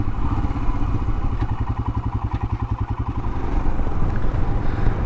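A Royal Enfield single-cylinder motorcycle thumps along under load at around 30 mph on a slight uphill, its pulsing exhaust beat loud and close, then rising slightly as throttle opens near the end.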